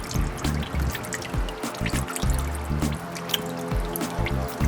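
Motor oil drains from a car's oil filter during an oil change, a soft, trickling stream with scattered drips. The sound is fairly quiet and close, with faint background noise and no talking.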